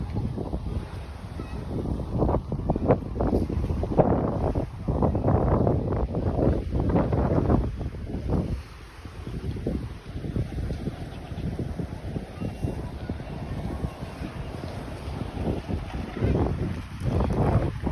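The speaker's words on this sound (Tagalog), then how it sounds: "Lakas ng alon." Strong sea waves surge and wash along a beach, a loud continuous rush with repeated swells, heavy wind buffeting the microphone throughout.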